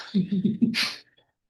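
A single sharp sneeze with a burst of breathy noise, close by, following a brief murmur of voice.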